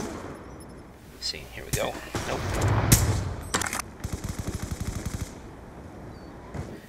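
Gunfire in Black Ops 2 on the Wii U in a free-for-all match: bursts of rapid machine-gun shots and a loud blast, then a fast, even rattle of automatic fire, with someone talking over it.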